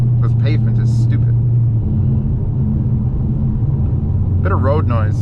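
Steady low road rumble fills the cabin of a car driving on a rough, recently unpaved road with the windows closed, constant and close throughout, with a person talking intermittently over it.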